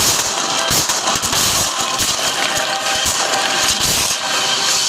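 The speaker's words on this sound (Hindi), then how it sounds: "टैंक्स की रैपिड फायर से मजा आ रहा है।" Rapid tank cannon fire crackles in a loud, dense barrage of sharp bursts, near and continuous, with no talking.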